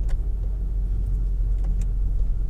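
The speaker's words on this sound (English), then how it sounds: "the engine's only just labouring" A car engine labours at low revs while driving uphill, giving a loud, steady low drone with road rumble and faint interior clicks, no talking.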